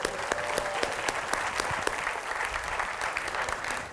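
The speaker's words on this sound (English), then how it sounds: "Please give yourselves a round of applause." A theater crowd in Oakland gives sustained applause at a science evening, a thick, even wash of many clapping hands with a few sharper nearby claps standing out throughout.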